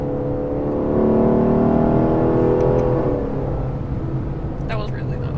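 A Lexus LC 500 accelerating on the road, its exhaust swelling into a loud, rising roar heard from inside the cabin, then settling to a steady drone; people talk over it.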